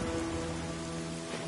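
Rain pours in the Dynasty Warriors 9 battlefield, a dense, even hiss that stays loud throughout, with sustained musical tones underneath.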